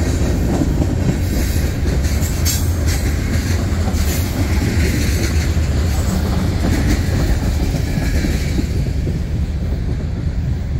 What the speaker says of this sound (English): This is the train that got stopped.